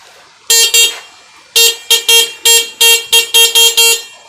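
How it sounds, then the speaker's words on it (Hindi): A newly installed electric horn on a 70cc motorcycle beeps loudly at close range: two short toots, a pause, then a quick run of about seven sharp, evenly spaced honks. "हॉर्न हमारी गाड़ी में इंस्टॉल हो चुका है, और माशाल्लाह बज भी ठीक रहा है"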